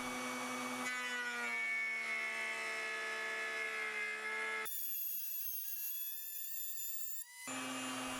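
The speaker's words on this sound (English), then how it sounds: "Then I'll use a small T-slot router bit to finalize the cut." A router fitted with a small T-slot bit cuts through wood, a loud high whine that holds steady, shifts pitch sharply partway through, then drops back, close and without voices.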